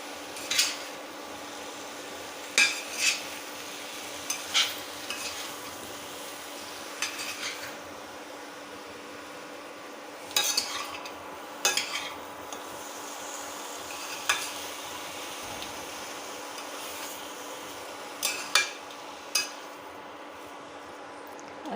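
A spoon stirs jackfruit curry with potatoes in a pan, giving intermittent scraping clinks against the metal over a steady low sizzle, with scattered taps spaced a few seconds apart and no talking.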